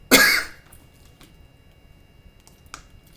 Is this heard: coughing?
yes